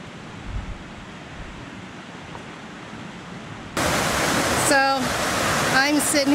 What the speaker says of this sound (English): Sitting here looking at this beautiful river